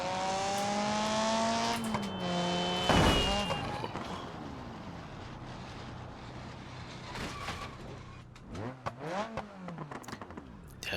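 The Sherrier Ardente, a Civic Type R-style coupe in BeamNG, drives with its engine revving and shifting through rising and falling tones, loud at first, then fading before revving up again.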